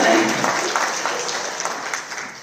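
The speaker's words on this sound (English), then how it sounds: "we're gonna clap live" An audience claps at a memorial service in a school auditorium, a dense, steady burst of applause that fills the space and slowly fades.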